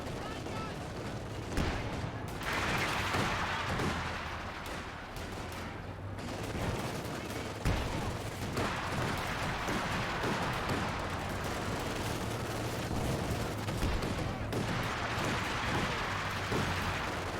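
Pak howitzer artillery fire in Company of Heroes 2, with repeated booming shots and crackling gunfire over a continuous battlefield rumble, while a commentator talks throughout.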